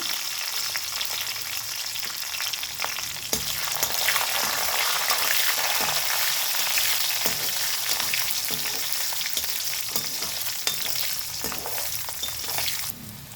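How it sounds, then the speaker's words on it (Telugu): Garlic and dried red chillies fry in hot oil for a ridge gourd chutney tempering, a steady loud sizzle with crackling pops and occasional stirring scrapes throughout, no voices. "వెల్లుల్లి వేస్తున్నాను, ఎండుమిరపకాయలు వేస్తున్నాను"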